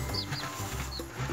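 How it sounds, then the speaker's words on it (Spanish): Young chicks in a bucket-like brooder give a few high, thin peeps over a low, steady background hum, with brief soft clucking-like calls in a short close-up moment. "ahorita los pollitos pues no saben qué onda, no conocen nada de esto."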